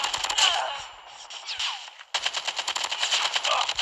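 Rapid automatic fire from an AK-47 chambered in 5.45 ammo in a first-person shooter video game, a sustained stream of sharp shots across the clip with a brief break, fairly close and loud, without speech.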